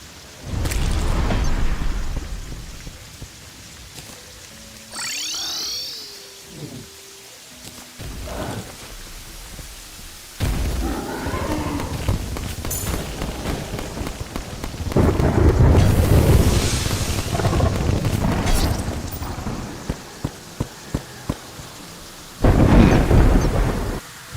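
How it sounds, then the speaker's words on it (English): Rain falls steadily in the video game Terraria while thunder rolls and cracks repeatedly, some bursts loud and close, with a brief swooping game effect partway through. "let's get rid of the rain"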